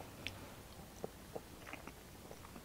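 Someone eating home-cooked green beans, with a few soft, scattered bites and chewing clicks that sound faint and close in an otherwise quiet room.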